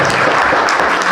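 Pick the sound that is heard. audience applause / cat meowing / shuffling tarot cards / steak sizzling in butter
audience applause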